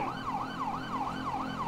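Police siren in Grand Theft Auto V, a steady rising-and-falling wail repeating about every quarter second, loud and continuous over a low engine rumble, with no talking.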